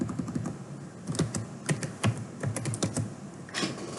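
Someone types a code comment on a computer keyboard, giving close, irregular clicking keystrokes in quick bursts with short pauses, no voice.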